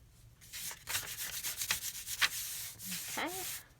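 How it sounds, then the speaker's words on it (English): A paper envelope flap is pressed and rubbed down by hand in a run of close, soft, scratchy strokes of varying strength, with a brief voice near the end. "Open this flap. Go ahead and seal this down."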